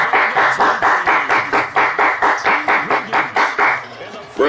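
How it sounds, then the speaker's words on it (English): Rhythmic, evenly spaced claps, about a dozen steady beats, loud and close amid a football crowd at a Bengals at Browns game, with a commentator's voice running over them. "Round of applause."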